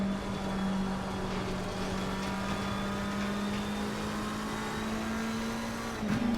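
A Porsche GT3 race car engine drones at a steady high pitch on the Zandvoort circuit in Assetto Corsa Competizione, sustained and even, as if heard from inside the cockpit.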